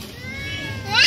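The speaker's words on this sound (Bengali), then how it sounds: "কি বলে ক্যাটটা" A cat meows on a street where a bicycle is passing, a drawn-out, mid-loud cry that rises and swells toward the end, with no talk over it.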